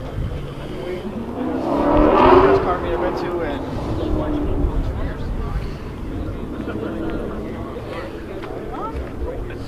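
A Mopar car's engine swells to a roar at a race spot, then settles into a steady rumble, with a crowd chattering around it the whole time.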